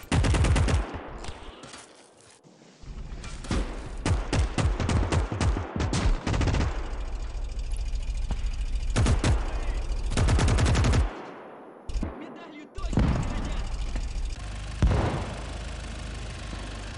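Heavy battlefield fire from Call to Arms - Gates of Hell: Ostfront, with mortar rounds launching among loud repeated gunshot bursts and booms, a steady engine rumble beneath, no talking.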